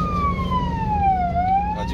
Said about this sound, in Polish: A ile syrena wyje?